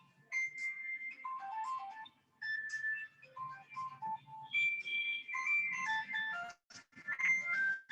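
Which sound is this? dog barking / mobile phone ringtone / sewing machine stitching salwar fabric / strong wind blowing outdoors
mobile phone ringtone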